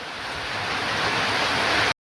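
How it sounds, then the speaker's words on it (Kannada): Heavy rain pours steadily outdoors amid wind, a dense, continuous hiss that holds at an even level for about two seconds before cutting off abruptly. "ಹಾ ಇದು ನೋಡ್ರಿ ಮಳಿ ನೋಡ್ರಿ"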